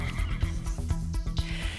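Arabian horse neighing loudly and close at the Polish Arabian Horse Days show in eastern Poland, a single sustained whinny with shaking pulses and no talk over it.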